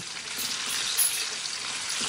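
Beef frying in a pan for an Eid al-Adha meat dish, a steady, close, loud sizzle with continuous bubbling crackle and no talk.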